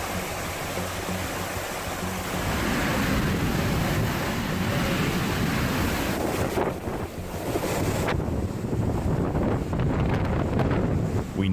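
Howling hurricane eyewall wind of a storm exceeding 130 mph, roaring continuously and loudly with buffeting gusts and rushing, surf-like noise, with no voices.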